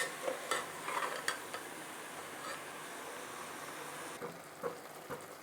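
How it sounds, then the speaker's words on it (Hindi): Mutton dalcha with pumpkin is gently stirred in a pan over a medium gas flame, giving soft scraping and light clinks over a low simmering hiss, quiet and close, with no talk. "बस इसे चलाते हुए हल्के हाथों से हम मिक्स कर लेंगे।"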